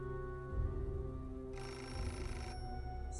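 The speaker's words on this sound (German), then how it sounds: "Ich gehe gleich an das blöde Telefon." A telephone rings in the video game Beholder, with a ringing tone that sounds over a quiet, steady game soundscape. A brighter bell-like burst stands out in the middle of the clip, and no one speaks.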